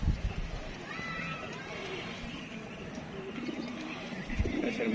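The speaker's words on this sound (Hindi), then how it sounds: "ये जी माशाल्लाह कबूतर है।" Pigeons coo softly on a rooftop in Gujranwala amid a bustle of background noise and movement, the low throaty calls faint and intermittent across the scene.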